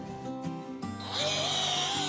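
A power drill with a wood bit spins up and bores into a wooden drawer-unit panel during furniture building, its motor whine rising after a second of quieter handling noise and then running steadily, close and loud.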